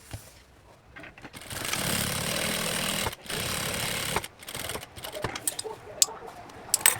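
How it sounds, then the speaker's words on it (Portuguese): A sewing machine stitching a backpack seam, a rapid mechanical run of about two seconds, a short break, another burst, then lighter clicks and handling sounds, close and with no talking. "eu vou costurar dessa linha pra dentro"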